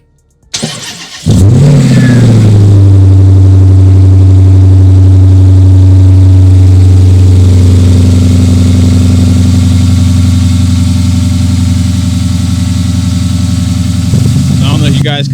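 A Dodge Charger Pursuit engine, with the microphone placed near the air intake, cranks and fires up with a loud surge, then settles into a deep, steady, rumbling idle that holds close and loud for over ten seconds.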